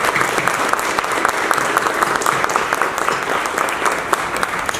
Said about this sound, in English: let's give all these DBs a round of applause